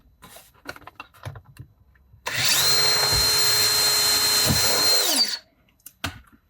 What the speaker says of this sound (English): I will drill the remaining holes through